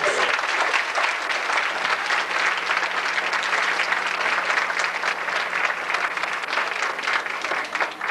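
Loud, dense applause from a large crowd at a high school beauty pageant, sustained evenly without a break.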